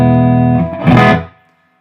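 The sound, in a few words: electric guitar with reverb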